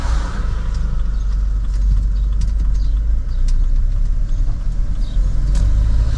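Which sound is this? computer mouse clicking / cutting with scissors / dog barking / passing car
passing car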